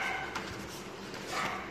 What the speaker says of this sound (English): Hey dog, stop.